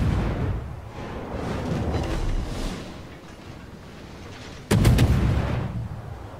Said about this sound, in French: Il y a toute la flotte qui lui tire dessus.